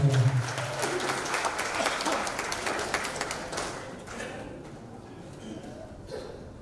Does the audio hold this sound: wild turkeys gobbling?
no